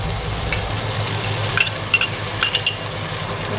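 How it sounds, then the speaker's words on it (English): Yogurt stirred into mutton keema frying with mushy tomatoes in oil in a pan: a steady close sizzle throughout, broken by a few light spoon clinks against the pan. "Time to add in 3 tablespoons yogurt."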